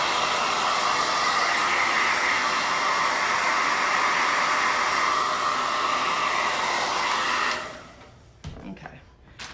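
A hair dryer blows steadily at close range to dry wet paint on Christmas craft bells, a loud continuous roar lasting about seven seconds before switching off, followed by a few small handling knocks.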